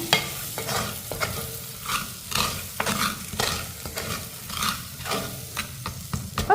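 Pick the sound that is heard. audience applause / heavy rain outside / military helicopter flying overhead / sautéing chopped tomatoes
sautéing chopped tomatoes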